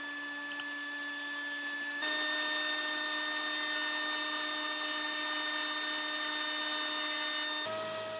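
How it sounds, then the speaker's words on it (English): Track saw cutting through sheets of plywood: a steady whine that jumps to a louder, brighter pitch as the blade bites into the wood, holds for several seconds, then winds down near the end. "now I'm just going to use my track saw to break down these sheets of plywood"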